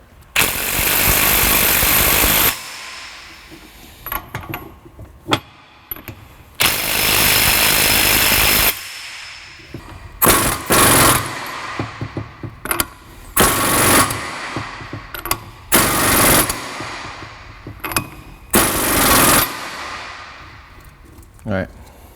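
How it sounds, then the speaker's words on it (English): Impact wrench running down the pinion nut on a Ford 8.8 rear axle: loud hammering bursts of rattling impacts, several long runs and many short blips separated by pauses, close by in a garage. "I'm just gonna run this down with the impact."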